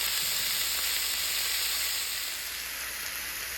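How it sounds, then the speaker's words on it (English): One pound of ground beef sizzles in a hot skillet, a loud, steady, close frying hiss that fades slightly toward the end, with no voices. "Add 1 pound of ground beef to a hot skillet."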